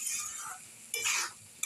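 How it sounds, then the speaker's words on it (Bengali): Potatoes and boiled chickpeas with turmeric, chili powder and salt sautéed in a pan, a short burst of utensil scraping and clinking over a soft sizzle. "এবার ধীরে ধীরে সব কষাইয়া নেব।"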